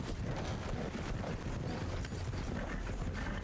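Horse hooves clip-clopping in Red Dead Redemption 2, a soft, steady patter of hoofbeats at moderate distance, fairly quiet and continuous.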